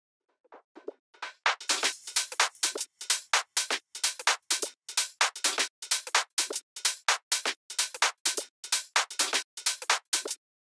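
Electronic drums from the break of a remix: a dense, steady run of crisp, bright hits after a sparse start, loud and alone with no voice.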